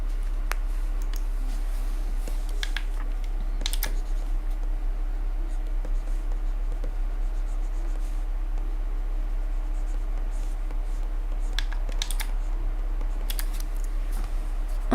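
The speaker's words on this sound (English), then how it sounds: "Also the random clicking sounds, that's me using my shortcut box." Scattered sharp clicks from a shortcut keypad used during digital illustration, heard over steady pen scratching and a constant low hum, irregular and close by.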